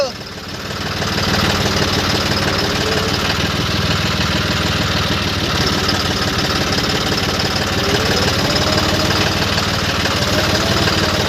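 A heavy engine runs steadily and loudly throughout with a low chugging rumble, like a tractor moving along.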